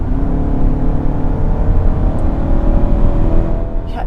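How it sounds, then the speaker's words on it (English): A 2024 Kia Sportage SUV accelerates from inside the cabin, its engine giving a steady, loud, muffled drone that rises gently over four seconds, with no talking. "I'm gonna give it some gas."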